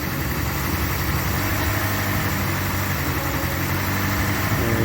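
A 1985 Chrysler New Yorker engine idles with a steady low rumble and vibration, heard up close and alone without pauses.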